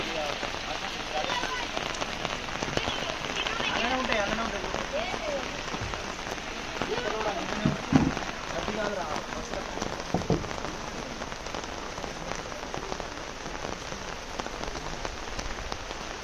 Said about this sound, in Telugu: వర్షం ఘోరంగా పడుతుంది